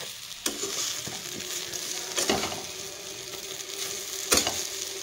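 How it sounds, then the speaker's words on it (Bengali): Eggplant slices fry in a pan with very little oil, giving a steady close sizzle broken by a few sharp scrapes and clinks of stirring, with no voices. "তো এইভাবেই তোমরা বেগুন ভাজলে একদম কম তেলে বেগুন ভাজা করতে পারবে"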